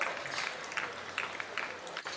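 Crowd applause fills a livestock show arena for junior breeding gilt exhibitors, a steady, dense clapping wash that holds throughout before easing slightly at the close.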